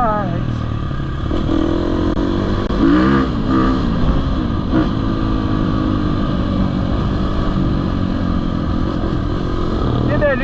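A KTM 350 SXF or Yamaha YZ450F dirt bike roars close by on a trail ride, its engine revving hard and steadily with rising pitch sweeps, while a rider's voice talks over it.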